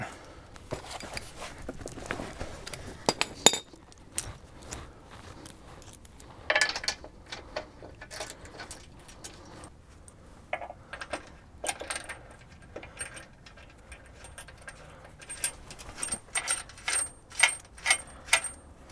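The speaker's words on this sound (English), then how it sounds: "what I'm going after first, this go around, is simply getting the lower bolts in" Metal bolts clink and jangle as they are started into the lower mounting holes of a winch bumper on a Jeep TJ, irregular close taps and rattles with quiet pauses and no talk.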